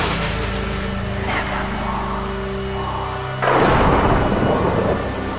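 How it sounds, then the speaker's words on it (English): A loud thunderclap bursts over steady rain, rumbling on after the crack; heavy storm ambience throughout, no voices. "a blistering clap of thunder"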